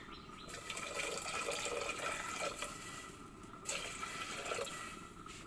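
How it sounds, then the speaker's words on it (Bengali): Water poured into a pot while preparing a home remedy for cough, a steady faint splashing fill with a brief break midway, alone without talk. "একটু পানি দিয়ে দেব।"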